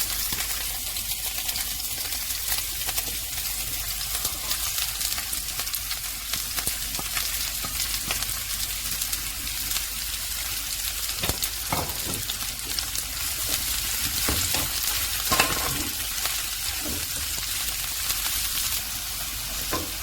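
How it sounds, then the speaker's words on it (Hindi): Thinly sliced carrots and other vegetables fry in hot oil for Singaporean rice, giving a steady, close, continuous sizzle with occasional louder crackles and stirring clinks throughout, with no talking. "जब ऑयल गर्म हो जाएगा तो इसमें सब्जियां डाल देंगे।"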